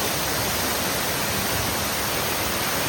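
Rain-swollen waterfall near Ekvira pours hard in a constant, loud roar of rushing water, close and unbroken.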